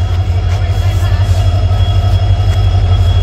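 An old, slow electric passenger train rolls along with a steady low rumble and rattle from inside the carriage, a constant loud drone with faint high squeals and no clear talk.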